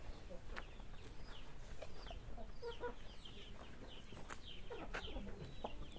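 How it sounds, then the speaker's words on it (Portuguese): Large chickens clucking on a rural farm, a scattering of short calls over a steady outdoor background, with other birds faintly mixed in. "olha o tamanho dessas galinhas"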